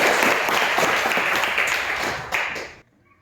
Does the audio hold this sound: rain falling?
no